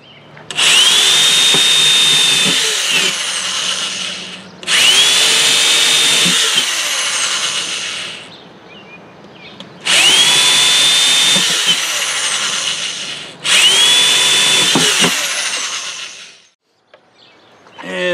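A power drill with a 1/4 inch bit bores drain holes in the wooden floor of a wood duck box. Four loud whining bursts of several seconds each, with brief pauses between them.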